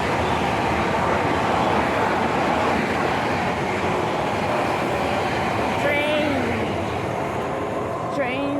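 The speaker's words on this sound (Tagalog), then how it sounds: "Train." A train at Sunny Bay station in Hong Kong, a loud continuous rumble and roar of rolling rail cars close by, with faint high squeals near the end and background voices.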